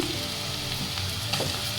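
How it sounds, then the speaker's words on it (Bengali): Chopped onion frying in a little oil in a pan, browning as it cooks, a close steady sizzle with a faint stir or scrape near the end and no talking. "একটা কুচানো পেঁয়াজ একটু লালচে করে ভেজে নেব"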